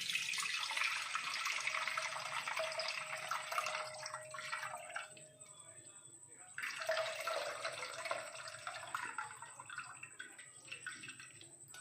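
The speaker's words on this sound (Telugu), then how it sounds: "దీంట్లో వడగట్టుకుంటున్నాం" Squeezed tamarind juice is strained, giving a soft trickling, dripping wash of liquid in two stretches with a quieter gap between them.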